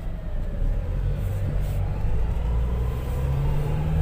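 Road traffic makes a steady low rumble, close and continuous, with engine noise that holds throughout and no speech.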